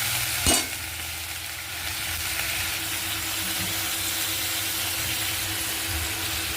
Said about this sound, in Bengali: কাঁচা পেঁয়াজ ভালো করে নাড়াচাড়া করে বাদামি রঙের হলে আদা লঙ্কা পেস্টটা দিয়ে দিবে।